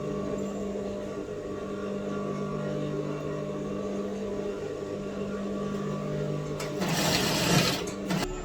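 A sewing machine stitches fabric with a steady, close mechanical hum and rapid needle whir, running continuously, with a louder burst near the end.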